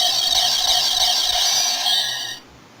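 A Power Rangers Time Force toy morpher's morph button gives a shrill electronic squeal that holds steady for about two seconds, then cuts off abruptly, leaving near silence.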